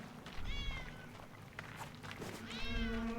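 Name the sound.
cat meowing in the video game 11-11 Memories Retold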